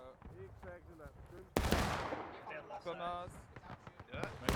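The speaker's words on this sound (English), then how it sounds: "This long-distance shooting, though, is not really going to do much for you." Long-distance rifle fire crackles in the War of Rights video game, with scattered sharp shots and a sudden burst of distant volley fire under a voice.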